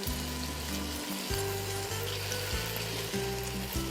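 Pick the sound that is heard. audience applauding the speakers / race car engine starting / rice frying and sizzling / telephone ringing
rice frying and sizzling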